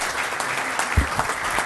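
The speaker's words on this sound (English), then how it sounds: "A round of applause for her." Short burst of applause at a city council regular meeting, scattered claps with a couple of louder close hits, brief and fairly busy.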